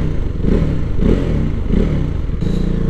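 KTM Duke 390 single-cylinder motorcycle engine while riding, a steady loud mid-pitched drone with rhythmic swells roughly every half second and some clattering road and wind noise throughout.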